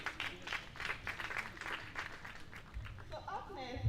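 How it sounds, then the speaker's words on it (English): An audience at a foreign policy event gives a round of applause, a faint few seconds of clapping that gives way to a voice speaking. "please a round of applause for him again"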